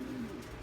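A pouter pigeon gives a single short, low coo, soft and close, heard alone without any talk.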